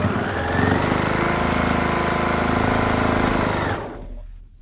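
A sewing machine stitches a casserole carrier made from placemats, with a fast, steady close whir that runs continuously before stopping abruptly near the end.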